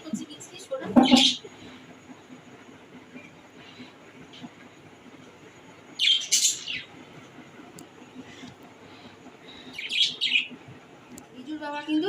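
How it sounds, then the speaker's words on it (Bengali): Small birds chirp and call to each other in three short bursts of bright twittering over a low, quiet background hum. "দেখো কি সুন্দর ডাকাডাকি করছে, কিচকিচ করে।"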